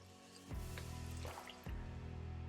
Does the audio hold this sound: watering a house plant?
yes